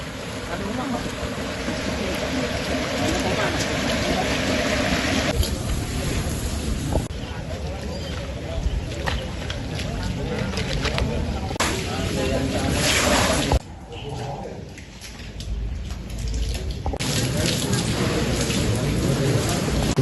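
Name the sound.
heavy rain and overflowing river floodwater in Semarang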